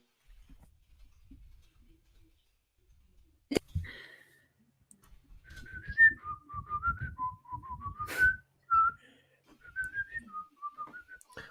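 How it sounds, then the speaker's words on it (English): A person whistles a wandering, tuneful melody in short phrases, fairly faint, with soft clicks and low thumps around it. "I wish I was able to whistle as effectively as you"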